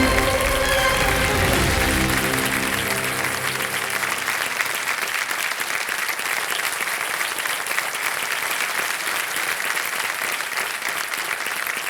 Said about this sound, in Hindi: आइए जोरदार तालियों के साथ।